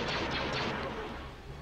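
A laser cannon battery in a Star Wars space-combat video game fires a rapid burst of loud, crackling blasts that fade into lingering rumble.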